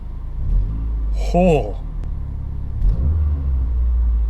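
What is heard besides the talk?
2012 Mazdaspeed 3 driving after motor mounts install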